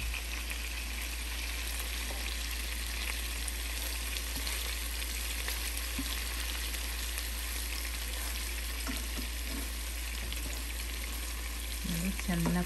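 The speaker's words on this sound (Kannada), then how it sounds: "ಇನ್ನೊಂದು 5 ಮಿನಿಟ್ಸು ಇದು ಓಪನಲ್ಲೇ ಫ್ರೈ ಮಾಡೋಣ" Chicken drumsticks in a honey gin garlic coating fry in an open pan with masala, giving a steady close sizzle with a few scraping stir sounds near the end.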